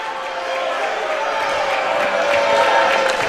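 A college basketball student section roars and cheers as a steady, loud crowd noise that swells slightly toward the end. Courtside commentary can be heard faintly underneath.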